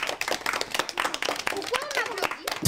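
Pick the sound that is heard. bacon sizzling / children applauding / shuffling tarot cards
children applauding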